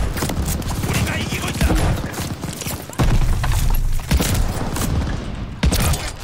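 A pump shotgun fires in Call of Duty: Vanguard, several loud, close booming blasts spaced about a second or more apart, mixed with clattering action and other gunfire in busy game noise.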